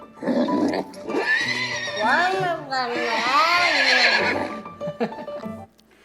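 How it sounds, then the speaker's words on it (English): A recorded horse neigh plays from a Google Assistant smart speaker: one long, loud whinny with rising and falling quavering pitch, followed by a few short snorts. "toca el sonido de un caballo. Esto es un caballo."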